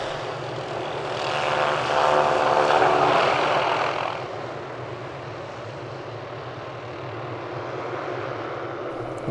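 A helicopter drones over Lake Alexander, a remote and isolated lake, its engine swelling loudest early on and then fading to a steady, lower rumble.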